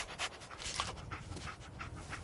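A dog companion pants in Fallout 4 with quick, steady, breathy huffs close to the listener, soft and continuous throughout.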